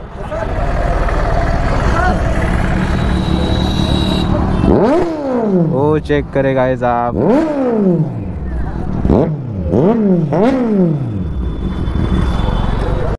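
A superbike at a riders' meet-up revs repeatedly in sharp bursts, each throttle blip climbing and dropping in pitch over a steady idle, loud and near, with people talking nearby.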